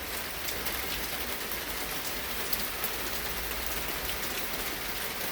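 Steady rain falls outdoors, a dense, even patter of drops on surfaces that holds at a constant level with no pauses and no voices.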